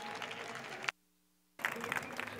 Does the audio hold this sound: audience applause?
yes